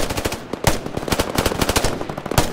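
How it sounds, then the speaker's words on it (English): Rapid automatic gunfire from the Roblox game Fireteam, a loud, dense stream of shots sustained without a break, with a few heavier reports mixed in. "Keep firing at him, keep firing."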